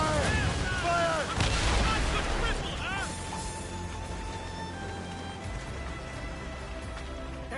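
Ship cannons booming in a naval battle in Assassin's Creed Rogue Remastered, with a dense volley of heavy blasts early on fading into a rumbling, sea-swept din, under shouted voices.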